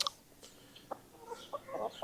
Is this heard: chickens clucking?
yes